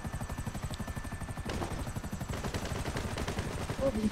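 A helicopter's rotor thumps rhythmically in GTA V Online while rapid bursts of gunfire crackle on top, moderately loud and continuous.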